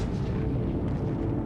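A documentary sound effect for a 1.5-megaton nuclear warhead detonated 400 km above the Pacific Ocean: a deep, sustained roaring rumble, loud and dense, with no talk.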